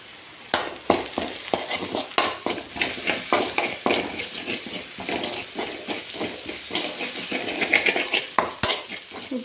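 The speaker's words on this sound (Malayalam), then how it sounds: "ഇട്ട് പച്ചമണം മാറുന്നവരെ ഒന്ന് വഴറ്റി കൊടുക്കണം" Turmeric powder is sautéed in a pan for a sardine curry with Malabar tamarind, giving a soft sizzle under repeated rhythmic scrapes and clinks of a spoon against the pan.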